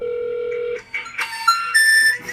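A phone call is dialed: a steady tone gives way to a rapid series of distinct keypad beeps and rising electronic tones, loud and close.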